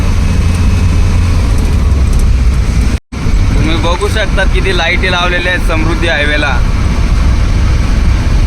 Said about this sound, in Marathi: आपली गाडी पण चालू आहे आता 80-85 80-85